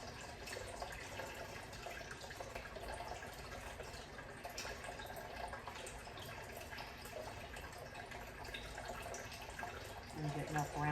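Water pours slowly and steadily into sourdough bread dough, a soft continuous trickle heard close, with a brief louder splash near the end.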